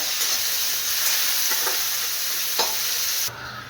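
Onion and vegetables sauté in hot oil for a brinjal-potato curry, giving a dense, steady close sizzle with a few brief stirring scrapes before the hiss drops away abruptly near the end.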